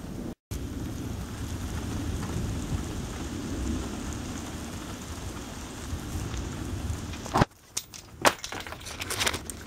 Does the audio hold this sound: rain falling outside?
yes